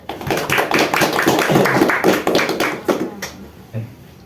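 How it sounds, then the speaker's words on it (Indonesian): A group at a catechesis session claps hands together in a dense, lively burst with voices mixed in, tapering off toward the end. "Tepuk tangan"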